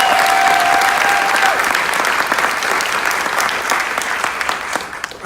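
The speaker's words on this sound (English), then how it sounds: "Big round of applause there." A crowd applauds at a Cindy Axne campaign event with Sen. Kamala Harris in Iowa, dense loud clapping that holds steady and then thins slightly toward the end, with a brief tonal whine near the start.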